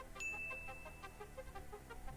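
A single bright notification bell ding rings out and sustains with a long fading tone, faint over quiet background noise, alone without talk.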